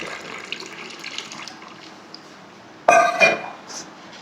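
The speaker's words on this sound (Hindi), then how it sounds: "अब हम इसमें पानी ऐड करेंगे।" Water is poured into a raw mango drink, first a faint trickle, then a sudden louder splashing gush near the end that briefly swells and fades, with a light clink.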